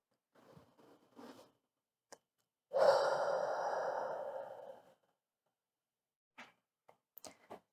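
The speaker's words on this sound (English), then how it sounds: "Taking a few breaths here." Someone holding a low lunge in a yoga session lets out one long, audible sighing exhale that lasts about two seconds, close and clear against near silence, with a few faint soft movement sounds before and after.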